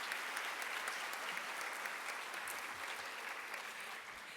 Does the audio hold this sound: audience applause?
yes